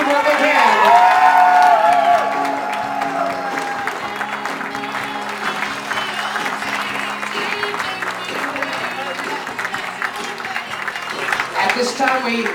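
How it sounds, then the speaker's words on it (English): Guests at a Rhode Island country club wedding cheer and clap loudly for the bridal party, whoops peaking at first, then applause continuing while a DJ talks over music. "And keep your applause going."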